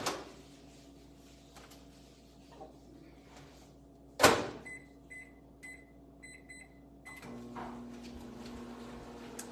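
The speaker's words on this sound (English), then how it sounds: "But we're gonna get this cooking in the microwave." A microwave oven cooking rice hums quietly in a home kitchen, punctuated by a sharp click or door thud midway and a few soft electronic beeps, with no talking.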